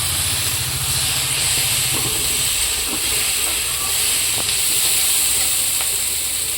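Chili powder, turmeric powder, sugar and salt frying in a pan, giving a steady close hiss that runs without a break and has faint clinks and scrapes underneath.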